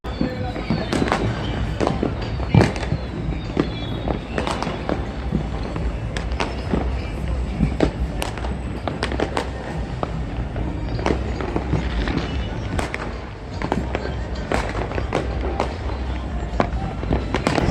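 Firecrackers and fireworks burst during the Uttarayan kite festival for Makar Sankranti, with sharp cracks and bangs popping steadily near and far under a constant crowd din, with people talking throughout.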